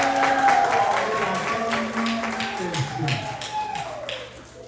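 A wedding congregation claps at a Christian ceremony, steady applause running throughout at close range while a voice carries over it.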